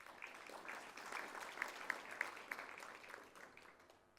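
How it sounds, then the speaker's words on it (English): Audience applause at a provincial leaders' forum during a leaders' summit, fairly quiet and distant, swelling slightly in the middle with a few sharper claps before fading out. "Let's give them a big round of applause"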